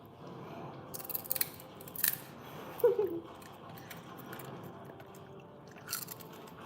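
A dog crunching treats, recorded close in ASMR style: a few sharp, crisp bites and crunches stand out over a steady low background hum, with no talking.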